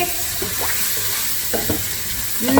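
Mulligatawny spice paste fries and sizzles in a pot, giving a steady hiss with a few brief stirring scrapes near the end.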